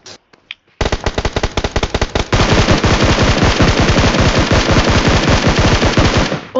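Gunfire in the mobile shooter BGMI: a few scattered shots, then loud rapid bursts of automatic fire, and finally continuous machine-gun rattle close up with no talking.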